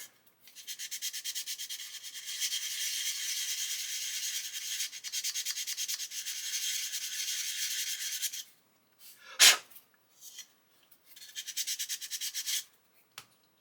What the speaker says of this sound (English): Just keep sanding until the lines disappear.